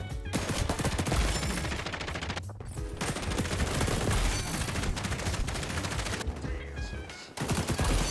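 Gunfire in a shooter video game keeps up as dense rapid bursts and repeated shots, loud and nearly continuous, with brief pauses between volleys.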